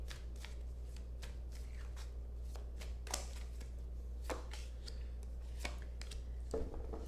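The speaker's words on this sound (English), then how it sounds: "take these couple of challenge cards here and see what it has to say" Tarot cards shuffled and drawn by hand, a steady series of crisp riffling and slapping bursts over a low constant hum, close and fairly quiet, with no talking.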